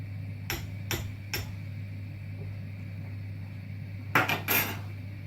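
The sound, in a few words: stirring bouillon in a pot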